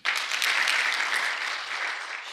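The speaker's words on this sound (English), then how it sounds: "Better clap for government." An audience at a county government roundtable in Baringo breaks into steady applause, a dense wash of many hands clapping that starts abruptly, stays loud and slowly eases off.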